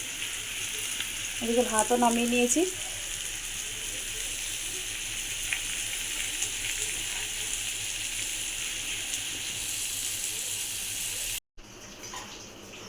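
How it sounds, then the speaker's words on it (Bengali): Bitter gourd slices frying in a home kitchen pan, a steady soft sizzle running throughout, with someone speaking briefly near the start and a short cut near the end. "আর এদিকে বসিয়ে দিয়েছি উচ্ছে ভাজাটা"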